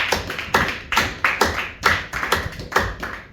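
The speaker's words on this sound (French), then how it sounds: "Nous pouvons applaudir vraiment cette parole." A church congregation applauds during a service, a few rhythmic bursts of close, sharp handclaps rising and falling in roughly half-second pulses, with no voices over them.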